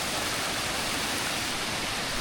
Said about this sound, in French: On va se rapprocher de la cascade sans se casser la gueule.